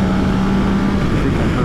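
A Yamaha Tracer 9 GT+ motorcycle engine pulling up a closed mountain pass, a steady close drone held briefly without any talk.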